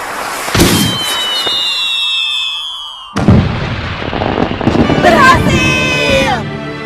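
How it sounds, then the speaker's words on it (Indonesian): Fireworks bursting in the sky in a Doraemon cartoon, whistling rockets rising and then loud crackling explosions one after another, with voices speaking over the display. "Sekarang kita bisa lihat kembang api."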